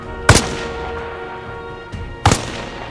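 Two sharp, loud gunshots in Arma Reforger solo combat, spaced about two seconds apart, each with a short echoing tail, plus a faint thump between them.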